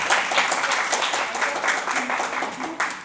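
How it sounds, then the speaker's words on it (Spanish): A church congregation applauding during a sermon, steady crowd clapping throughout at a moderate distance, with some voices mixed in. "Aplaude al Señor."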